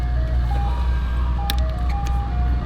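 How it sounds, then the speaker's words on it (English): A passing ice cream truck plays its tinkling melody of clear tones over a low rumbling engine, heard near in a garage setting while a Civic gets a flex fuel kit, with brief metallic clicks. "There's an ice cream truck."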